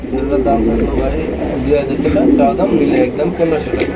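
Pigeons coo in soft, repeated throaty calls close by at a pigeon sale, while people talk over them throughout.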